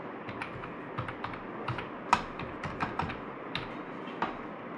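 Keystrokes on a computer keyboard as a PAN number is entered into an online form, a quick irregular run of close, crisp taps with one sharper hit midway, no voices.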